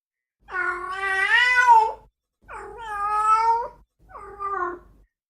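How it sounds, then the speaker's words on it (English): Female cats in heat caterwauling outside at night: three long, wavering, harmonic yowls, each rising and falling, the last one shorter, loud and clear with quiet gaps between. "one can hear female cats going through this some nights outside your window"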